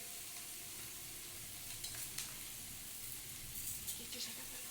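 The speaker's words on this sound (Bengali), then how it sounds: "ডিমটাকে একদম লাল লাল করে ভেজে নিতে হবে" Eggs sizzle steadily in a hot pan as they fry, with a soft continuous crackle and occasional brighter pops, quiet and close up.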